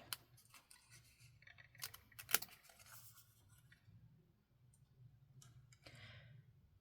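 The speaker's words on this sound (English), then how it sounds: "I can use my snips to trim this on that pencil mark." Metal snips cut paper along a pencil line in a basement paper-weaving craft session, giving a sparse series of crisp snapping clicks with one sharper cut near the middle over a low background hum.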